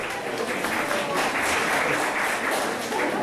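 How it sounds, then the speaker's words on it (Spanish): An audience applauds in a steady, dense wash of clapping at moderate loudness, sustained throughout without letting up. "Eso, un aplauso."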